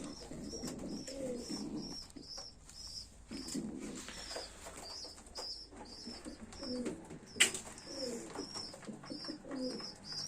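Pigeons coo repeatedly in a loft where adult birds feed their young chicks, soft rhythmic cooing calls with rustling and a brief sharp knock, fairly faint and close, no talk.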